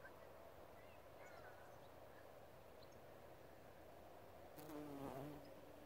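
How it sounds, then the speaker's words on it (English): Bees buzzing among flowers on an allotment in August, a faint, soft drone in quiet outdoor air, swelling briefly louder near the end as one passes close. "Plenty of bees on them."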